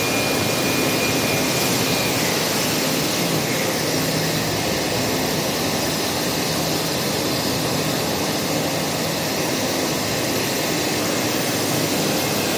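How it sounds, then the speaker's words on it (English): An air blower on an industrial melt blown machine roars steadily and loudly throughout, a dense, unbroken rushing hiss with a faint tonal whine, and nobody speaks. "We also need a capacity big enough blowing machine to blow off the air when the material is coming out from the tea dye."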